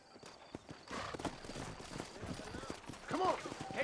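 Horses clip-clop at a walk through a town in the Western video game Red Dead Redemption, soft hoofbeats under ambient game noise with a brief whinny-like sound near the end.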